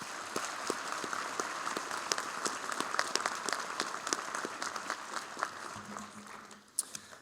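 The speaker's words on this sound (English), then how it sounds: "And another round of applause, please." An audience applauds at a National Honor Society induction ceremony, with a steady patter of many hands clapping at moderate distance that fades slightly near the end.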